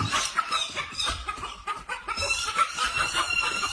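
A hen fighting off an attacking hawk clucks and squawks agitatedly in a rapid, continuous string of calls amid rustling scuffle noise.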